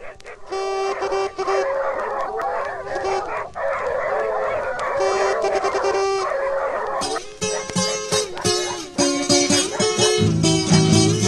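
Hunting dogs bark and yelp loudly and continuously outdoors, several animals overlapping in a dense, excited chorus that grows more intense near the end, with a voice talking underneath.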